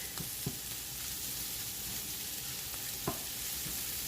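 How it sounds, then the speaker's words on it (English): Garlic sautéing in butter in a pan; a steady, fairly quiet sizzle with a few soft clicks of stirring scattered through. "we're going to allow the garlic to cook for about 1 minute"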